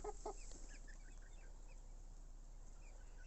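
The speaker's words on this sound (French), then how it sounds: "on a aussi un petit coq gris perle que je ne garde pas, qui est juste ici" A flock of young bantam Orpington chickens, including a small pearl-grey rooster, clucks and chirps in brief calls, louder at first and then scattered and soft over steady background noise.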